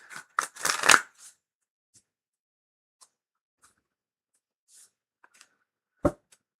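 Tarot cards are shuffled in a quick riffling burst, followed by scattered soft taps and one more sharp shuffle near the end, close and otherwise quiet.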